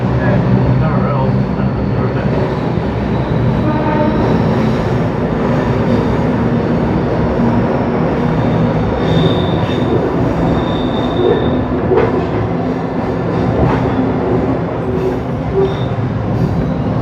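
A heritage F1 train runs through an underground tunnel, a loud, steady rumble of wheels and carriage noise filling the whole stretch, with faint wheel squeals breaking through now and then.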